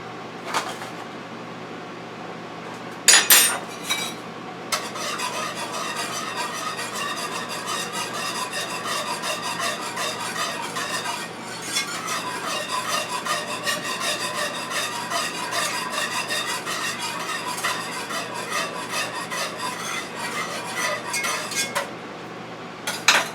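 A spoon scrapes and clinks against metal while heaping tablespoons of brown gravy go into a pressure cooker for cubed beef, with repeated rasping strokes, a couple of sharp knocks, and no talking.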